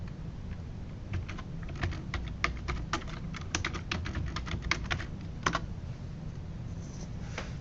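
Computer keyboard typing comes as quick, close clusters of light clicks in irregular bursts, quiet and without speech.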